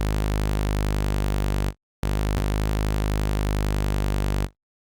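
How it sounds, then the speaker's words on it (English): A low G sub bass note from the Vital synthesizer, dense with harmonics, sustains steadily, breaks off for a moment, then returns and sustains again with a slow downward pitch slide before cutting off abruptly. "Just a very slow pitch automation going from up to down."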